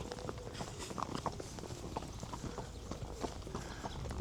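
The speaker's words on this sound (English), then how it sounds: "Horse is getting a bit fidgety, but doing all right so far." Horse hooves clip-clop steadily on a riding tour in Agadir, Morocco, the even walking beats close and clear over light outdoor ambience, with no talking.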